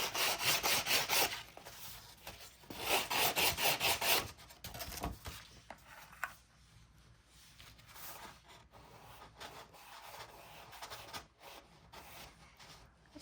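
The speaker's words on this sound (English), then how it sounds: "I'm gonna take this sanding block that I have. I have like a crafting sanding block" A crafting sanding block rubs back and forth along paper card edges in quick, rasping bursts, loud at first and then lighter and more scattered, close up with no voices.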